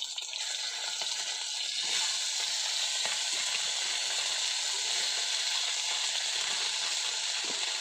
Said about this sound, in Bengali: ঢেলা মাছের ভীষণ কাটা, ওই জন্য একটু কড়া করে ভেজে নিতে হবে মাছকে।